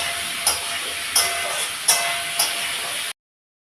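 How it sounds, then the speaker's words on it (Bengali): Hilsa fish curry with potatoes and taro cooking in a pot: a constant close bright hiss of frying and steam, broken by four sharp sizzling bursts at regular intervals, with no talk. "এই যে ইলিশ মাছ রান্না করছি"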